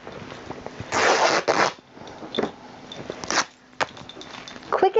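Drop cloth fabric torn by hand, giving a few rough ripping bursts, one longer tear followed by shorter ones, close and fairly quiet.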